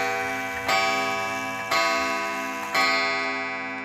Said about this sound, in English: I want to present to you this unmarked German kitchen clock